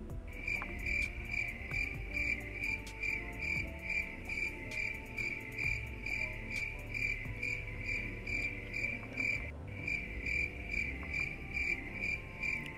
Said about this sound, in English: Crickets. Literally.